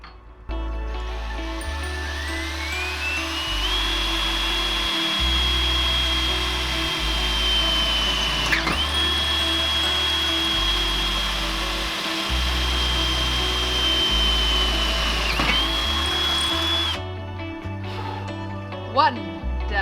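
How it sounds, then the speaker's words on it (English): A power drill whines steadily while boring holes in a guitar rack being converted to hold ukuleles, its pitch rising at start-up and dipping briefly twice before cutting off near the end, loud and close with no talking. "ready for drilling."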